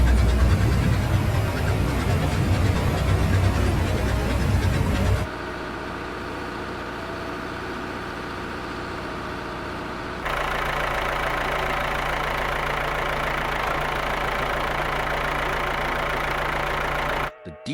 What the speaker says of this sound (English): The roar of the engines fills the air.